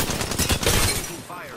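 Rapid gunfire in the video game Apex Legends rattles close and loud for about a second before fading, with a voice briefly mixed in.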